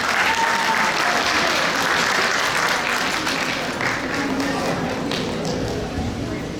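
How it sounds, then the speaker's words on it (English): An audience applauds after a devotional song at a Basava Jayanthi celebration, a loud, sustained, dense wash of clapping from a large crowd that holds steady throughout. "Please give her another round of applause."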